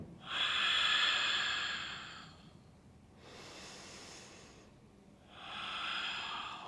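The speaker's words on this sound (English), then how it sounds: "3 big breaths here." Three deep, slow breaths during a vinyasa yoga flow, each a long breathy inhale or exhale, close and soft, separated by short pauses, with no talking.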